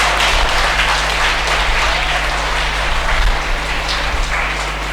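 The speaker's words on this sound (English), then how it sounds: "Can we have a huge round of applause?" Audience applause greets a prize announcement at a junior school elocution competition, a dense, steady wash of clapping filling the whole stretch without pause.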